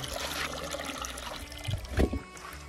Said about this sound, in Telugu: ఇక్కడ మా కొండ నుంచి వచ్చే వాటర్ని ఇక్కడ స్టోర్ చేసుకొని ఊర్లో అయితే వాడుకుంటారు.